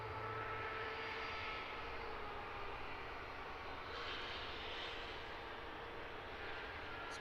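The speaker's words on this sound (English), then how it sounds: "So we have a Wizz and an EasyJet both vying for position to get onto the runway first" A Wizz Air jet and an EasyJet jet taxiing at London Luton Airport, a steady, moderately distant engine roar and whine that holds throughout with no talk.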